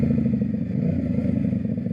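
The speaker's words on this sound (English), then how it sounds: "Hopefully you can hear the bike. This bike sounds amazing now." A motorcycle with an upgraded exhaust idles with a deep, throaty, rapid pulsing rumble, close and steady, no voices.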